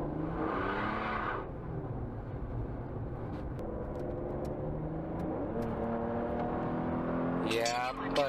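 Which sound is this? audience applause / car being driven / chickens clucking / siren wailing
car being driven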